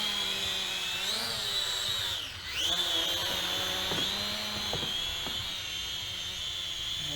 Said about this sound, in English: we're going to one button takeoff. And we are up and flying.